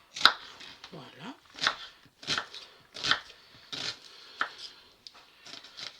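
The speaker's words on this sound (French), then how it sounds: "Donc nous coupons notre oignon hop, en petits bouts." A knife chops a red onion into small pieces on a cutting board, with a series of crisp, evenly spaced strikes close by.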